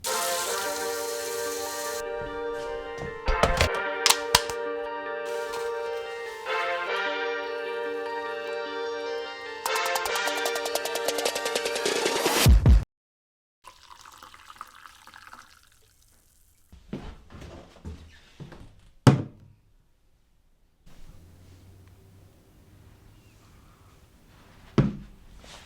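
Coffee being prepared: a long stretch of steady hissing and pouring, like a grinder or machine running, then quieter clinks, drips and scattered handling sounds, with no talking.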